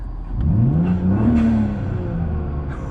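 A Volvo S60 T6 with a Snabb 3-inch turbo intake revving loudly up and down close by, engine tone rising and falling with a whooshing turbo release over the top.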